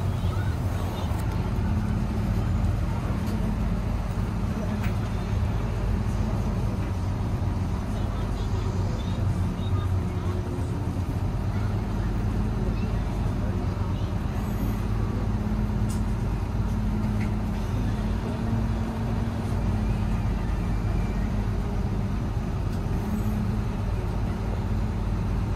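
A Sugeng Rahayu intercity bus engine drones steadily as the bus is reversed and parked outside a shelter, a continuous low rumble throughout with background chatter.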